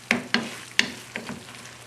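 Eggplant caponata is stirred and folded in a pan: four or five distinct scraping strokes, spaced unevenly over a couple of seconds, over a faint low sizzle, close and moderately loud.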